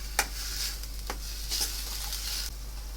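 Chopped onion sautéing in a pan while cooking chole bhature, a steady soft sizzle with a few brief stirring scrapes, close and alone.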